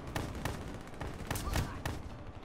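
Sharp gunshots in Call of Duty Black Ops 3 multiplayer, a handful of distinct loud cracks spaced irregularly over a noisy battlefield background.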